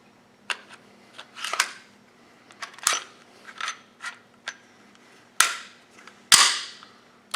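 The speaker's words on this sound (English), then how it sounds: "put the slide back on the chassis" A Beretta APX pistol slide is fitted back onto its frame, producing a series of crisp metallic clicks and snaps, close and sharp, scattered unevenly with a few louder clacks toward the end.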